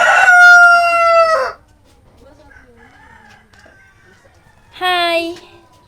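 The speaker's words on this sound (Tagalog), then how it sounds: "Ang laki naman ng manok na ito." A rooster crows loudly twice, close by, with a quiet stretch of faint background sounds between the calls.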